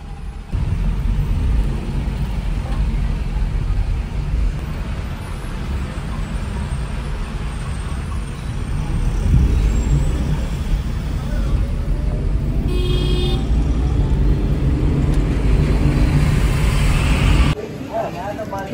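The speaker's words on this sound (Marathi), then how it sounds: "ट्रॅफिक जाम आहे थोडं टोलवरती" A traffic jam at a highway toll plaza near Nilanga gives a steady low rumble of idling and slowly moving vehicles, with a voice talking over it for much of the stretch.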